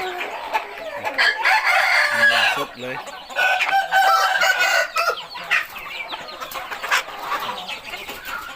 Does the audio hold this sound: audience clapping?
no